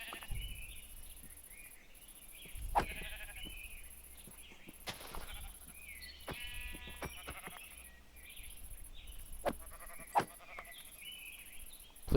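Sheep bleat repeatedly in a video game, several clear calls at mid volume spread out over time, along with game clicks and other small effects and some faint talking.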